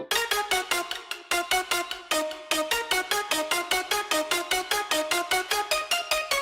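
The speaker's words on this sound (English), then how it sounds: "The main sound is the pluck lead and the bass" A bright synth pluck lead programmed in FL Studio for a Marshmello-style drop, playing a rapid, evenly pulsed run of short staccato notes with brief gaps, loud and alone.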